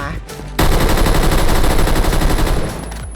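Close, loud automatic gunfire in a shooting video game, a continuous rapid burst lasting about two and a half seconds after a short quieter lead-in, then trailing off.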